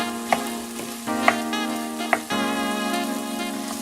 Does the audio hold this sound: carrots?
yes